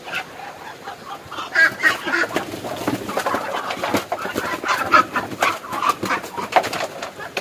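Backyard chickens and chicks clucking and peeping close by, a busy overlapping chorus of short calls that runs steadily throughout with no talk.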